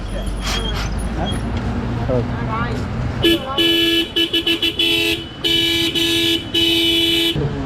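A motorcycle horn with a fault, during servicing, honks several times in short bursts and a couple of longer blasts, close by, after an opening stretch of engine and background noise.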